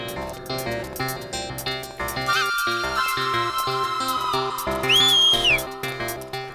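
A man gives a rising wolf whistle at a woman selling flower garlands. The whistle is shrill and sliding, heard over loud background music.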